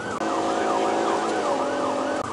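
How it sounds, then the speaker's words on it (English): A police car siren wails continuously in a rising and falling pattern during a pursuit, loud and close, with traffic noise beneath it. "警官が停車命令をかけようと、サイレンを鳴らすと"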